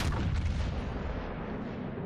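A battleship's rear guns fire a salvo in the World of Warships game, a loud booming blast that decays into a long rumbling tail, with no talking.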